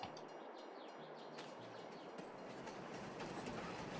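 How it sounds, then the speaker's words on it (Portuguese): A train runs on rails in Farming Simulator 22 with a faint, steady rumble of wheels on track and light clatter, heard alone with no talk. "Será que eu tenho que ir em algum lugar pra pegar o trem?"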